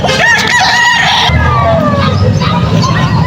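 A rooster crows loudly nearby, with chickens clucking around it at a chicken market.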